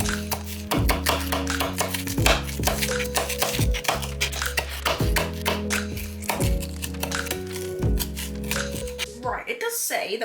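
Vegetables are chopped on a chopping board with a quick run of sharp, rhythmic knife strikes over steady background music.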